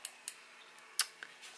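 Small 4-inch mini duckbill embroidery scissors are handled during an unboxing, producing a few sharp, quiet metallic clicks and snips spaced irregularly, close up in a quiet room.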